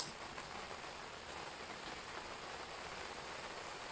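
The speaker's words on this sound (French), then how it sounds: "Et il pleut." Steady rain falls in Brittany, a constant soft hiss of drops spread evenly across the whole stretch, close and unbroken, with no voices.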